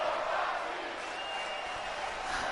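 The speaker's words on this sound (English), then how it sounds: "they need to fix those crowd chants" Crowd chanting inside a WWE 2K25 wrestling video game arena, heard as a steady, dense wash of massed voices that holds at an even level throughout with no clear breaks.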